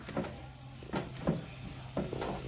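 Lumpia filling being stirred in a pan, with a soft sizzle underneath and three scraping strokes of the spoon at roughly even intervals, close and moderately quiet.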